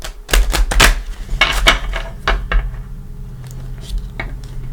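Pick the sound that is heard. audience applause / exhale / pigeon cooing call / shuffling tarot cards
shuffling tarot cards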